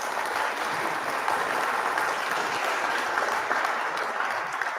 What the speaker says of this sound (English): can we get a hand clap for normal people in this world?